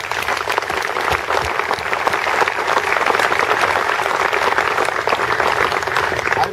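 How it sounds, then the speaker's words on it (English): Sustained applause from an audience at a Bear Flag celebration, steady and dense throughout with no talk over it. "they deserve a solid round of applause"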